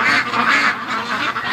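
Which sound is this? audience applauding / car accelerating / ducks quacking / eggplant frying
ducks quacking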